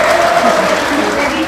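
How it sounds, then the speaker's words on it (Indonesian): Brief, loud burst of applause from a class of students in an indoor classroom lesson, dense clapping close by with a faint tonal hum beneath. "Beri tepuk tangan ya."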